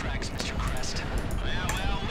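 Gunfire aimed at a helicopter during a heist in Grand Theft Auto V Online: a rapid string of loud, sharp shots cracking over a dense, noisy background, with voices mixed in.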